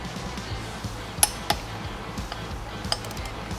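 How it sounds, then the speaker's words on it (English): A few sharp metallic clicks and clinks sound as brake rotor bolts on a motorcycle are torqued down with a torque wrench, isolated close ticks over a quiet background. "we'll go ahead and torque these down to 30 to 35 foot-pounds"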